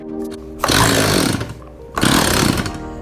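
An old chainsaw given a shot of ether on full choke sputters in two loud, close bursts of ragged engine noise, each catching briefly for under a second before dying back to a low idle-like murmur.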